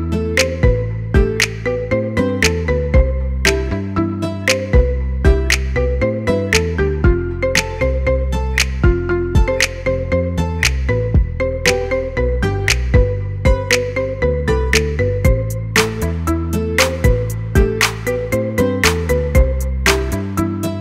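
A marimba remix of a pop song plays as a ringtone: bright, struck mallet notes in a steady, bouncy rhythm over a deep bass line, loud and clear throughout with no voices.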